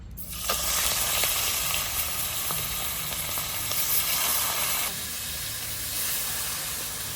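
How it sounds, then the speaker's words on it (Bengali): Small fish frying in mustard oil in a wok, a loud, dense, steady sizzle and hiss that starts abruptly and continues close up, easing slightly partway through, with no talking. "কড়াইতে একটু সর্ষের তেল দিয়ে দিচ্ছি মাছটা হালকা ভেজে নেব"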